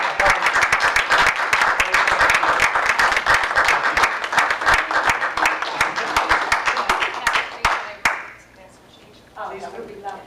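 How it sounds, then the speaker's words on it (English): People at a borough council meeting clap sharply and unevenly from close by, with individual claps standing out, then the applause drops away around eight seconds and a few voices speak. "And if we can have a round of applause."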